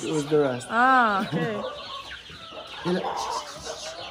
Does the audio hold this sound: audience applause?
no